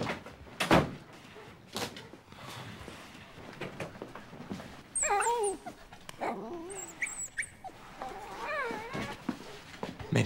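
A puppy whimpers and whines in short, high, wavering bursts at close range, mixed with door sounds and some faint background voices.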